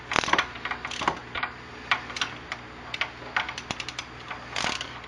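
A ratchet wrench loosens the cam chain tensioner on a Kawasaki Ninja 250R, giving bursts of quick, close metallic clicks in irregular runs with short pauses between them.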